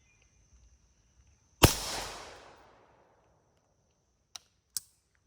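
A single sharp suppressed rifle shot, fired from a short-barrel rifle fitted with an 8.5-inch suppressor, cracks loudly close by and decays over about a second, followed by two small metallic clicks.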